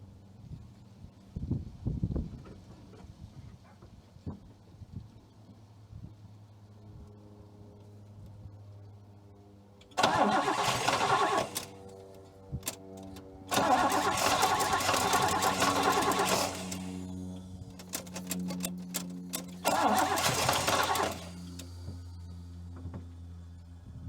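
A 1962 Oldsmobile 98 engine cranks in three separate bursts of a few seconds each, separated by quieter stretches with faint low rumbling; moderately loud and close, no talking.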